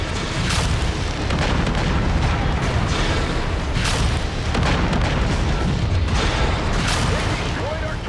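Heavy booming explosions in MechWarrior 5 Mercenaries as a tool shed is destroyed, a continuous loud rumbling roar with several surging blasts.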